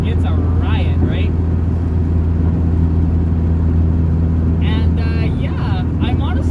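Driving inside a turbocharged 1986 Shelby Omni making over 300 wheel horsepower, a steady low engine drone runs continuously while someone talks over it at the start and end.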